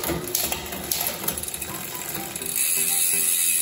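A freshly replaced, oiled bicycle chain clicks through the gears as they are shifted, giving a steady close ratcheting tick that turns into a smoother whir near the end, with no talking.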